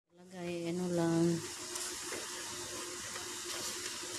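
Watery tofu dropped into a hot pan of lumpiang hubad filling gives a steady, close sizzling hiss after a brief voiced moment at the start, continuing evenly to the end.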